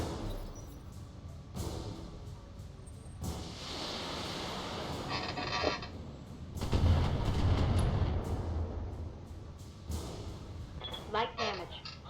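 Mech weapons firing in the Battletech video game (2018), heavy booming volleys and rumbling impacts rolling over several seconds, with people talking over the barrage.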